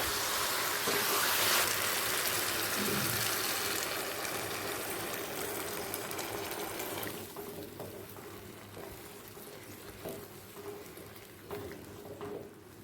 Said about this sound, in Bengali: এই সময় দিয়ে দেব পনির ভেজানো জলটা